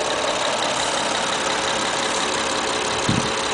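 A 2005 Honda Accord Hybrid with a 3.0 i-VTEC V6 integrated motor assist engine idles quietly and smoothly, a steady, even hum held close with no talking.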